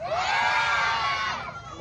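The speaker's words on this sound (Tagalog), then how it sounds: "Isang malakas na sigaw dyan!" Campaign rally crowd for a city council candidate erupts in a loud, sustained cheer and shout, many voices mixed with higher children's yells, fading slightly toward the end.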